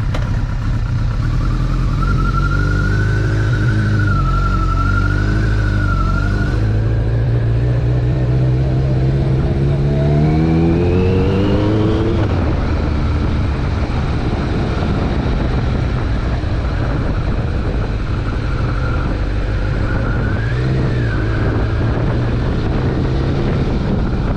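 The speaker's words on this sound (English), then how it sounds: "this bike is already warmed up let's go for a quick ride" A carbureted 2001 Kawasaki ZRX1200R Eddie Lawson replica, warmed up, rides along with its engine droning loudly and rising and falling through gear changes, wind roar mixed in, for over twenty seconds.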